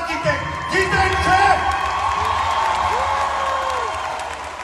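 A crowd applauds and cheers with scattered whoops, the clapping holding steady across the moment while voices carry over it.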